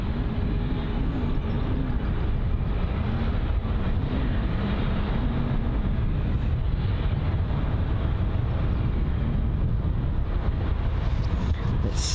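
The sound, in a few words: Finnair Airbus A350-900 jet taxiing out at London Heathrow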